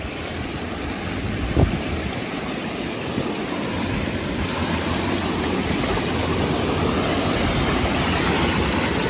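Water released at full force gushes through a monsoon stream in Konkan, a loud, steady broadband rush with wind buffeting the microphone and one brief thump early on.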